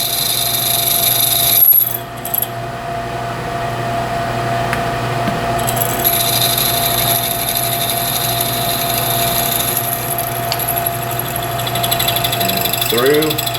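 A power drill boring a hole with a number 28 bit through a chamfered pilot spot while installing a thumb brake, a steady close whine and grind running throughout with a brief dip near the start.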